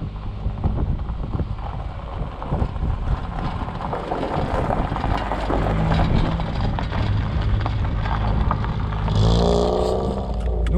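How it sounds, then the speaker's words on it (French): A nearly 30-year-old Volkswagen Golf 1 Cabriolet by Karmann pulls away, its engine a low steady drone mixed with road and wind noise. The sound swells slightly toward the end. "on va aller faire un petit tour à bord de cette Golf 1 cabriolet."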